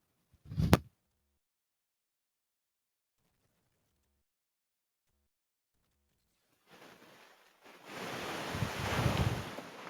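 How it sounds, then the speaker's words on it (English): After a sharp thump and a long silence, wind-blown surf rises into a rushing wash of waves breaking nearby. "then you hear the waves crash down"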